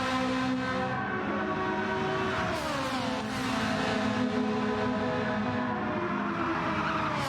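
Ferrari race cars scream around a track, engines whining at high revs with pitch sweeps as they brake and accelerate through a hairpin, loud and sustained without commentary.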